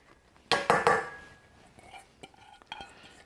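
Shrimp being dropped and stirred into a bowl of mashed taro for Cantonese taro cake, a few loud close clatters and scrapes of utensil against bowl, then quieter scattered taps.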